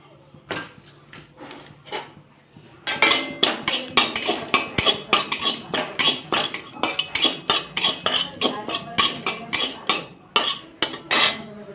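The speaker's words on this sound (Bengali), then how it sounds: "এখানে আমি তেজপাতা রেখেছি তেজপাতাটা ভেজে নেবো" Bay leaves frying in a pan, with a rapid run of sharp metallic clinks and taps from a utensil striking the pan, loud and close, after a few quieter knocks at the start.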